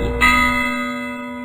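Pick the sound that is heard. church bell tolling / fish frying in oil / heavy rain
church bell tolling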